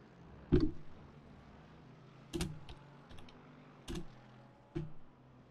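Sparse, separate keystrokes on a computer keyboard that is not working well because something is in the way, four distinct clacks spaced about a second or more apart in a quiet room.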